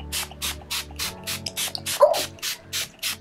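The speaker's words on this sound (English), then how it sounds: "So I'm just going to go ahead and spray my face." Wet n Wild Coconut Setting Spray misted onto a face in about ten rapid, evenly spaced spritzes, each a short hissy puff up close, with faint background noise.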